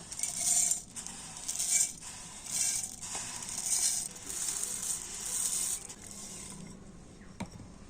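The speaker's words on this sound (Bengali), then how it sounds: "এই মুড়িগুলোকে এখন আমি মিক্সি জারের মধ্যে নিয়ে নেব" Puffed rice poured into a mixer grinder jar gives a light crisp rattling patter in several short bursts, close and fairly soft, ending with a small clink; no speech.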